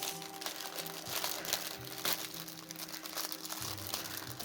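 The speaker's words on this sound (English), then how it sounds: "So, excuse the crinkling, 2 seconds while I undo this." Plastic packaging on a carousel box crinkles and rustles up close while being undone during an unboxing, in irregular soft crackling bursts with no talking.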